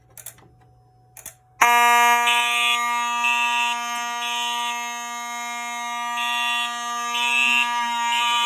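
A Fire-Lite fire alarm system sounding during a heat detector test, a loud continuous buzzing horn that starts abruptly after a few faint clicks and keeps blaring, with a pulsing tone layered over it.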